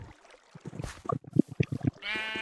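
Sheep in the SpaceAdventure Craft video game bleating in a quick series of short, faint, wavering calls, followed by a brief higher, steadier tone at the end.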